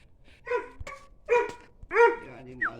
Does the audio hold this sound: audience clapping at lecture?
no